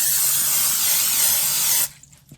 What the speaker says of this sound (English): I'm gonna just take some Pam and spray this down